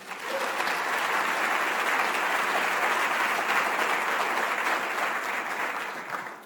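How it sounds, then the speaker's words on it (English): Sustained audience applause at a campus address, a broad, even wash of many hands clapping that holds steady throughout and sits somewhat distant in a large hall. "So please give them a round of applause."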